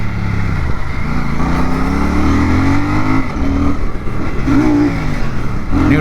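A 650 motorcycle is being ridden, its engine a loud, steady, close drone that rises and falls in pitch as the rider works the throttle, with no speech.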